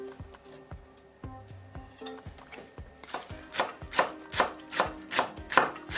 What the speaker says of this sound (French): Je vais terminer mes petits poireaux que je vais émincer finement.